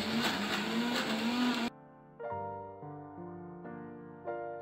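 A mixer grinder blends chicken and spices into a thick paste without water, its loud, close motor whine running for under two seconds before cutting off abruptly, then followed by soft melodic tones.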